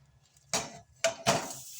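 Lumps of jaggery dropped into a small saucepan for sweet vermicelli, giving three quick hard clunks against the metal pan in a quiet kitchen, with no voices.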